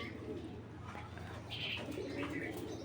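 Pigeons softly cooing at a pigeon seller's, faint low coos under a background murmur with a few brief higher chirps, somewhat distant and quiet.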